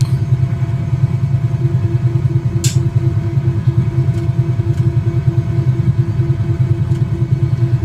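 Cowansim 222B aircraft engine in Microsoft Flight Simulator winding down toward idle stop, a steady loud low rumble with a throbbing pulse and a few faint clicks from the cockpit.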